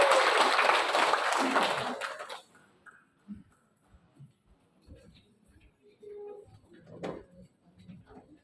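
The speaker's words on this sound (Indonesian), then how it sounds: "Beri aplaus." An audience applauds a silat performance at a teachers' community event, loud crowd clapping that fades out after about two seconds, followed by scattered quiet shuffles and knocks.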